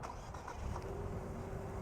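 A 2022 Infiniti QX55 engine starts and settles into a steady, close low rumble, with a faint tone entering partway through; no one speaks.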